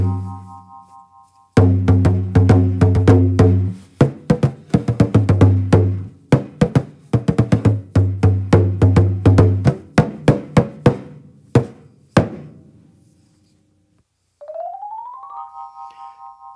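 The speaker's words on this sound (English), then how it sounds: "Irish Bodhran" A hand drum beaten in quick, rolling rhythms with resonant low thumps, pausing between runs and fading out, followed by a short rising tone.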